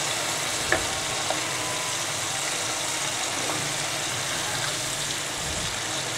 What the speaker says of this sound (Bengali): মাছের মাথাটা দিয়ে দিলাম, দিয়ে এখন আমি একটু ভালোভাবে এটাকে কষিয়ে নিব।